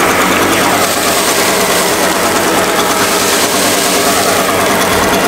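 An Echo PB-580T backpack leaf blower idles steadily, a loud, close, constant engine drone mixed with airy rushing noise and no variation.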